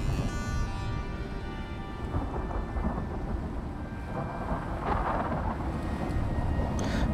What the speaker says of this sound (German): Kommt auch noch ein Gewitter